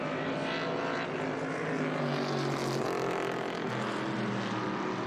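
V8 race cars, including a 1970 Boss 302, pass at WeatherTech Raceway Laguna Seca during a historic feature race, with a continuous loud engine roar swelling and fading as the pack goes by.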